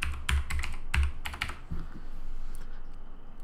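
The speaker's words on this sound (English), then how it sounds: "So I'm gonna type in my password." Fingers type a password on a computer keyboard, a close, quick run of clicky keystrokes with a few heavier key thumps, then slowing and fading into faint room noise, with no speech.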